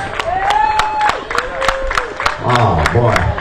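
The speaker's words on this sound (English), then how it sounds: "Let me hear them clap." An audience claps at a live stage show in Brooklyn, New York, with sharp, rhythmic hand claps spaced fairly evenly over a crowd murmur, while a voice carries on over them.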